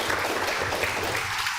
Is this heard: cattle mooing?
no